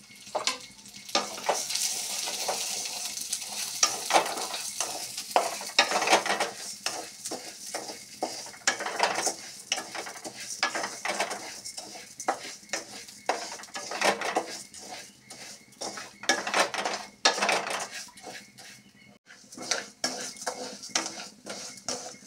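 Mung dal frying in oil in a wok, with an ongoing sizzle under frequent scraping and clanking of a spoon against the metal as it is stirred, close and irregular.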